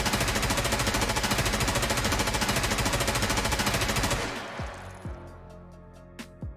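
Colt M4 rifle in Escape from Tarkov fires a long, rapid full-auto burst for about four seconds, loud and steady, then cuts off into a few trailing shell clinks and metallic clicks.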